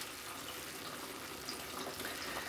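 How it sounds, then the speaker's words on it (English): Purified water pours steadily from a 5-gallon jug into a winemaking bag of grape juice, a continuous rushing gush at close range with no talking. "I take my 5-gallon purified water jug here, and I basically just carefully try to"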